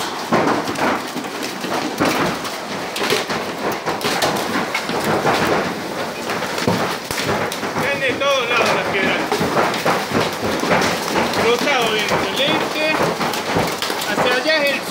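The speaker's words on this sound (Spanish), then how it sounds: "Mira las piedras que vienen." Hailstones pelt down steadily during a storm in Alta Gracia, a dense, loud, continuous clatter and hiss on surfaces, with voices speaking over it throughout.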